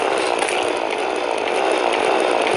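A platinum drill grinds through ore while mining in Terraria, making a dense, loud, continuous buzzing whir with a slight rapid flutter, alone and unbroken.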